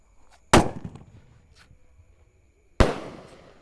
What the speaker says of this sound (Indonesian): Selanjutnya kita nyalakan mercon yang meledosnya banter, namanya Raja Wali